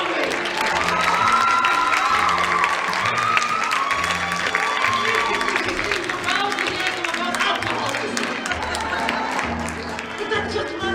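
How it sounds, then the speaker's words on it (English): A theatre audience applauds and cheers during a musical performance, steady loud clapping with shouts and whoops layered over it for the whole stretch, with music and voices mixed in. "Don't stop clapping!"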